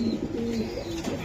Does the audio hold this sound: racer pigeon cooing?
yes